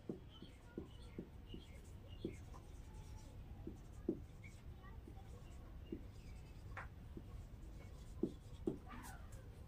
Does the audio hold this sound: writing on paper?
yes